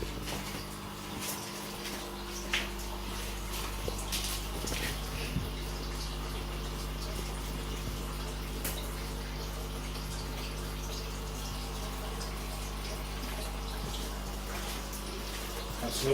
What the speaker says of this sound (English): So the water is now draining out absolutely fine.